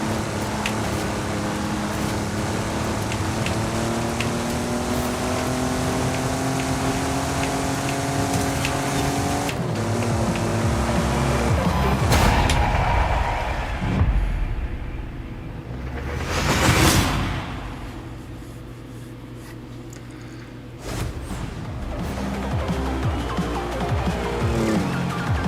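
Race car engine in Forza Horizon 5 revving and shifting through gears, loud and close, with whooshes and a brief swell of tire noise midway, running steadily throughout.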